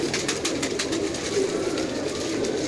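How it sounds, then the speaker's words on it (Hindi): Rampuri pigeons coo softly and continuously in a loft in Lahore, low murmuring calls layered over a busy, steady background of ambient noise. "ये देखें जी, ये कबूतर है।"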